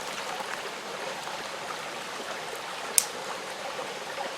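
Creek water flowing steadily beside a campfire, a soft continuous rushing trickle, close and even, with one brief sharp snap near the end and no voices.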